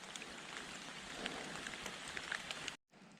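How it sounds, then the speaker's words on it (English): Rain falls on a frozen pond during ice fishing, a dense, steady patter with scattered sharper drop ticks that cuts off abruptly near the end, leaving a quieter wash. "Ice cold fishing in rain."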